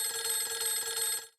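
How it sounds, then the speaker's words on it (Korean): A telephone rings once, a bright trilling electronic ring lasting just over a second before cutting off cleanly, close and alone with no voices. "그날 아침 미국에서 전화가 왔어요."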